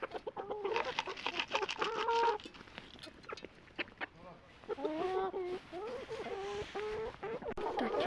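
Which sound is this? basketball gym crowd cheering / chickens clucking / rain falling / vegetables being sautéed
chickens clucking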